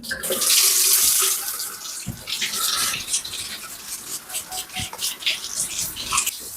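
A standard kitchen faucet in a house being inspected gushes into the sink, a loud full stream at first that turns to an uneven splashing flow, with brief talk and a few knocks around it.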